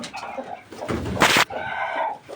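A broody hen gives a few low clucking calls close by, with a sharp burst of noise in the middle, then more soft clucks.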